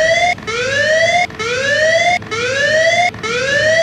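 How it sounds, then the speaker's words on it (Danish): A loud rising electronic alarm tone repeats four times in even cycles aboard the Danish naval ship Absalon at night, filling the space with no voices over it. "Alarm bryder stilheden."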